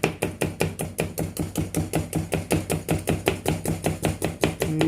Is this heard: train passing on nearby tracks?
no